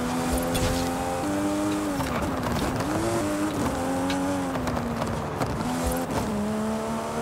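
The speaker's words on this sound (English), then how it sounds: "that was the first car, the Mark V Supra" A Mark V Toyota Supra in Forza Horizon 5, with a transmission tune and anti-lag turbos, revs loud and close, its engine tone climbing and dropping sharply through repeated gear changes.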